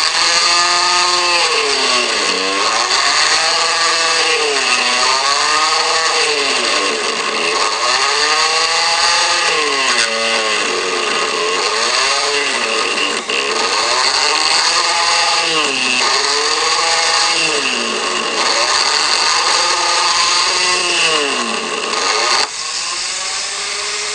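A mini lathe fitted with a milling spindle cuts blind keyway slots with shallow passes, giving a loud, continuous, close machining whine whose pitch rises and falls in slow repeating sweeps for the whole stretch.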